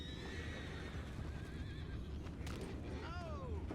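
Horses in Red Dead Redemption 2 neighing and whinnying, with several drawn-out, wavering calls over a busy background of hoofbeats and ambient noise, close and clear.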